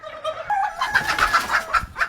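A rooster calls in a series of short, repeated clucking notes, fairly close and loud.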